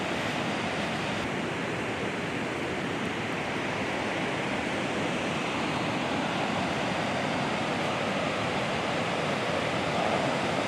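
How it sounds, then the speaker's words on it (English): River water pours loudly and steadily over Livermore Falls beside old mill ruins, a dense continuous roar filling the whole stretch with no voices. "Listen to the water."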